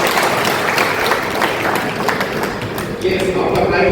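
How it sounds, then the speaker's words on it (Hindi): A school career-guidance audience in Sujangarh gives a short round of applause, a dense, even patter of many hands lasting several seconds. "वेरी गुड, छोटा तालियां उनके लिए।"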